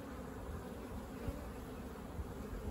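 Honeybees buzzing steadily at a hive in an apiary, a continuous low, dense drone at moderate distance with no voices.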